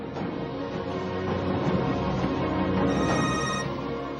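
An electronic phone ringtone trills for a few seconds, moderately loud and close, a layered melodic ring with no talking.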